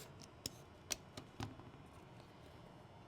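Scissors snip through fabric squares corner to corner, giving a few quiet, separate crisp cuts spaced apart over low background noise.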